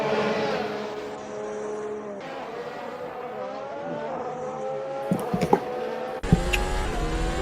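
Race car in the Assetto Corsa racing game rolling slowly out of the pit lane at a Malaysian Grand Prix, a steady engine drone with shifting harmonic tones, ending in a louder, brighter burst of engine noise.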